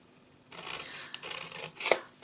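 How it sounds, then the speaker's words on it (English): Scissors cut the bottom flaps of a paper bag, producing a brief close snipping and rasping of paper ending in a sharper final cut. "Okay, I'm going to cut and wedge the bottom flaps."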